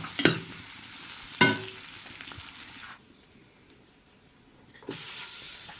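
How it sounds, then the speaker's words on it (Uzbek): Onions sizzling in oil in a pot over an open fire outdoors, a steady frying hiss punctuated by sharp scrape-and-stir sounds, easing briefly before rising again. "Mana yog'ni soldik, piyozni soldik. Yaxshilab qizartirib qovuramiz."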